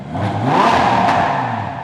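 An Audi R8 GT3 LMS Evo race car's engine is revved in one loud, close blip that swells and falls away over about two seconds, with no talking.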